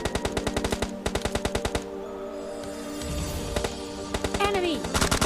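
PUBG Lite gameplay: rapid machine-gun bursts in evenly spaced volleys, with pauses and scattered single shots. A player talks over the gunfire.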